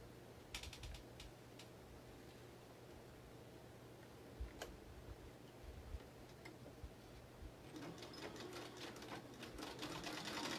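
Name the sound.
sewing machine stitching a dart in a fabric mask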